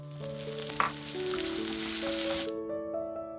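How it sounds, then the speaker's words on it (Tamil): Steady sizzling of finely chopped onions frying in hot oil in a pan for a brinjal masala curry, a broad hiss that cuts off abruptly near the end, with faint tones in the background. "பொடியாக நறுக்கின வெங்காயம் எல்லாம் சேர்த்து நல்லா வதக்கணும்"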